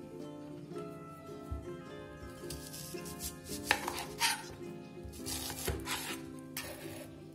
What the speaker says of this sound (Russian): сразу начнем нарезать лук